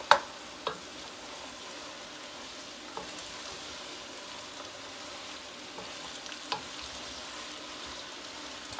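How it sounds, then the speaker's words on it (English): Carrots stirred in a cooking pot, a steady low sizzle of frying with a few soft scraping knocks from the spoon, close and quiet, no talking. "And again, what are we going to do? We're going to stir."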